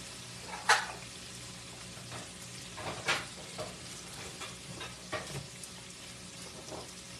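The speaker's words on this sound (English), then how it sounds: "Frying it on top of the stove." Meatloaf sizzles in a pan on a stovetop with a steady hiss, broken by occasional sharper crackles and spatters every couple of seconds.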